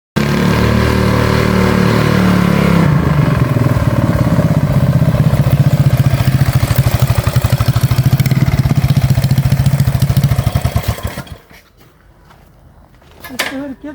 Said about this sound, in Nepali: यसको ट्र्याक्टरको इन्जिन हो।